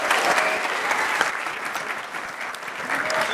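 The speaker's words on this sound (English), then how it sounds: "a round of applause to ZENA for being here at all" A live talks audience at HAW Talks 2015 gives a round of applause for a guest speaker, a sustained dense wash of many hands clapping steadily for several seconds, close and fairly loud.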